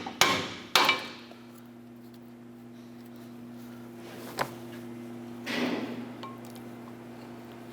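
Steel pry bar tapping a brake pad backing plate on the caliper bracket of a 2008-2012 Honda Accord, three sharp metallic knocks at the start, a lighter tap in the middle and a duller scrape later, over a steady low hum.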